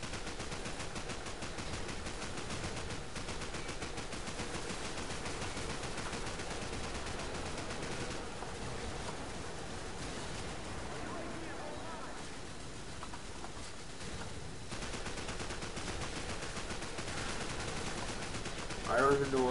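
Continuous gunfire from a player's weapon in Call of Duty 4 runs throughout as dense, rapid automatic shooting under steady game noise, with a voice faintly present beneath.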